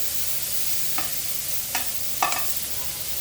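Prawns fry lightly in oil for dab chingri, a steady even hiss with three faint utensil taps near the middle and end.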